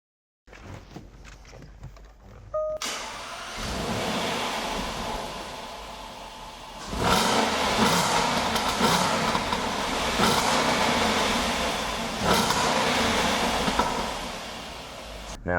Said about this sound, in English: I'm gonna hop in it, drive it a little bit so you can hear that big V8.